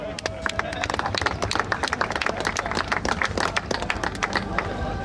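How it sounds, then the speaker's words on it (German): A crowd at a German tractor pulling event applauds the class winners, with brisk scattered clapping and some background chatter, moderately distant and continuous for a few seconds. "einen Applaus für die Jungs"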